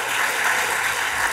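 An audience at a poetry reading gives a sustained wash of applause, a steady hiss of many hands clapping at once with no voices heard.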